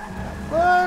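In the Forza Motorsport 6 racing game, a car drifts through a corner with engine roar and a brief rising tire squeal near the end of the short burst.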